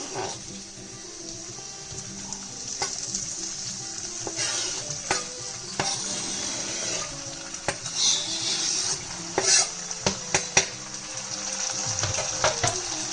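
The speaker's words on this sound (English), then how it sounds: "I'm going to put 500 grams of chopped tomatoes into this" 500 grams of chopped tomatoes sizzling in a pan for vegetable butter masala, with a soft continuous fry and intermittent stirring scrapes and clatter, close by, no speech.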